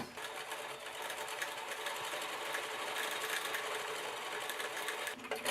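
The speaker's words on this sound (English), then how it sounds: "So now I'm going to top stitch on the side that has the fold first to hold it in place." A sewing machine runs steadily while top stitching along the folded edge of a shawl, a close, continuous whirring hum with a rapid needle rhythm that stops just before the end.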